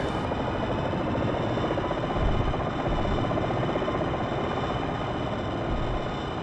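Steady, loud rotor and turbine drone of an Apache Longbow helicopter landing in a flight-sim training mission, a dense continuous engine roar that holds nearly level throughout with no voices.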